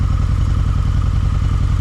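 A 2004 Harley-Davidson V-Rod that has sat unridden for months idles close by, its engine giving a steady, loud, throbbing low rumble with a quick regular pulse and no voices over it.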